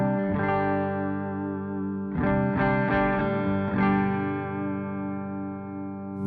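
Clean electric guitar chords from the neck humbucker of an Ibanez J Custom RG8570 ring out with a warm, rounded tone and a wash of reverb, several strums letting notes sustain and decay.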